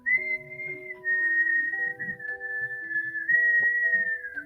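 A person whistles a soft, sustained melody in imitation of a legendary whistle, the high tone gliding gently between pitches over several seconds, heard alone with no talk.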